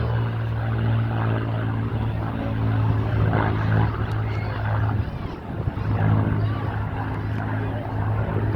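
Two Spitfire fighter planes fly at the Torbay airshow, their propeller engines making a loud, continuous droning roar that holds steady throughout with slight swells.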